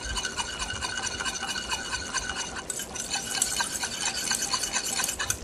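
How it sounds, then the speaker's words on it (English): A small hand whisk stirs a sauce smooth to a creamy consistency while making an oxtail stew, giving a steady, close, rapid scraping and swishing rhythm that runs throughout without pause. "a little whisk like this works very good for this"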